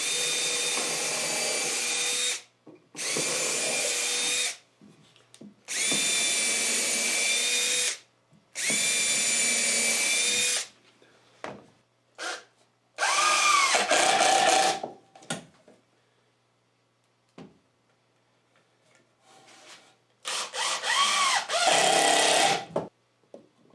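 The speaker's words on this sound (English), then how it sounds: "I'm going to just drill pilot holes in each end just to make sure" Power drill boring pilot holes into each end of an old 2x4, in several loud bursts of steady whine separated by short pauses, with a few clunks of handling between.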